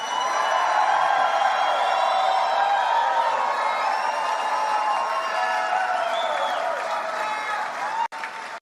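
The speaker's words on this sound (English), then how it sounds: "it's just a bunch of cheering" A large crowd cheers and applauds steadily and loudly after Vivek Ramaswamy announces his run for Ohio governor, with whoops rising above the dense wash of clapping before it cuts off abruptly near the end.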